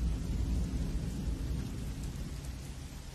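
Heavy rain pours down steadily with a deep, continuous rumble of thunder underneath, loud and enveloping, with no voices.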